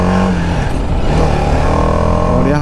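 Sports motorcycle riding on the Delhi Mumbai Expressway, a steady loud engine drone with wind roar, continuous and close throughout without pauses.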